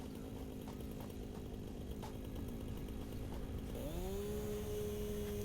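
Chainsaw running in the video game Satisfactory, a steady buzzing drone that rises into a higher sustained whine partway through as it cuts into trees.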